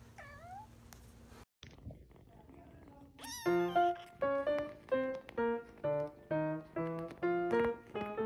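A cat meows in a quick, regular series of about nine loud, clear meows, preceded by quieter sounds and a brief silence.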